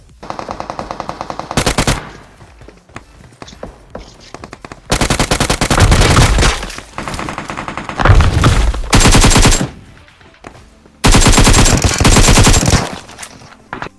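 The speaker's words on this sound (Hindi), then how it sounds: "कोई वीएसएस मार रहा है बहुत दूर" VSS rifle fire in the mobile game PUBG, in Georgopol, comes as several loud bursts of rapid automatic shots separated by short quiet gaps.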